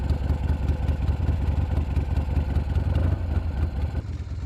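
An old Shovelhead motorcycle engine idles steadily while warming up, a loud, close, continuous low throbbing with an even pulsing rhythm that eases off slightly near the end.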